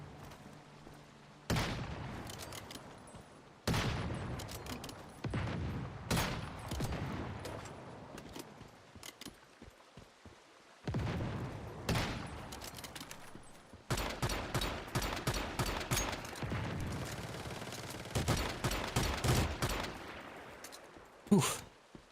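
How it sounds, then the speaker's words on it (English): Video game gunfire and grenade blasts in Once Human, repeated sharp bursts and rapid volleys separated by brief lulls, fairly loud throughout and without talk. "don't be shooting grenades at me"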